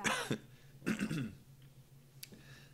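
A person clears their throat twice in rough, raspy bursts, followed by a faint short throat noise, close to the microphone with quiet background.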